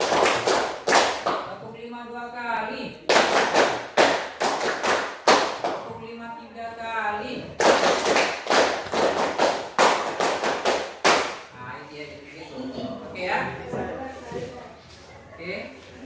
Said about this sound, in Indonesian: kita akan bermain tepuk